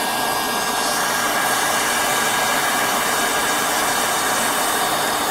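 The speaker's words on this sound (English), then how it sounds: "Heat gun." A heat gun blasts hot air onto bread to toast it, producing a loud, steady, close rushing roar with a faint motor whine that holds unchanged throughout.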